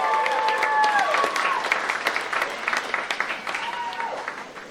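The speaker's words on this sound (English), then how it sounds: "Let's give Chad a big round of applause." Audience applause for a participant at the Studio Backlot Tour at Disney's Hollywood Studios, dense clapping and cheering throughout with whistles and voices mixed in, slowly thinning toward the end.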